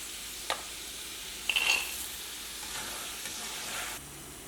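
Peanuts roasting in a pan give a soft, steady sizzle under a few sharp scrapes and clicks of stirring, close and fairly quiet.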